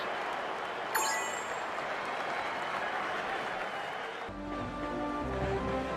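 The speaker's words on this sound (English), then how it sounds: "Even the panic in the stands has given way to raucous cheering for our heroes." A crowd in arena stands cheers and applauds in The Last Story video game, a sustained dense roar of clapping and voices that gives way to soft musical tones near the end.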